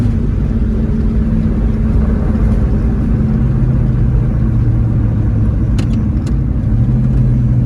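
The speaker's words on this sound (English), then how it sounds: "So, the car's kind of driving like she used to" A 1967 Pontiac GTO driving, with a loud, steady low engine rumble and road drone throughout, near and continuous, plus a couple of brief high clicks late on.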